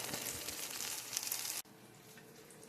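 Mashed potato patties with vegetables fry in a pan, a steady close sizzle that drops suddenly to a quieter hiss partway through, with no talking.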